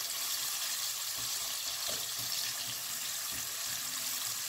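Ingredients frying in hot oil for a Cuban chicken hearts fricassee, a soft steady sizzle and hiss with occasional light stirring knocks, fairly quiet and without talk.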